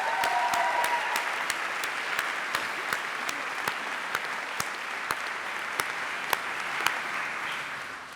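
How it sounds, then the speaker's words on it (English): Applause from a graduation ceremony audience, fairly distant and steady, with a few sharper individual claps standing out and a fade near the end. "Again, applause."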